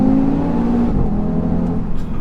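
A 400-horsepower Audi TT RS pulls hard on a B road, its engine note loud and close, rising and then easing through a gear change under a steady roar.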